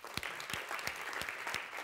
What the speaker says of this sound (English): On the applause, I should say,